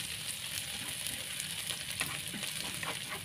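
Chilies sautéing in a pan, likely alongside shallots, for a stir-fried bitter melon and salted squid dish, give off a steady, close sizzle with light stirring scrapes throughout, with no voices over it.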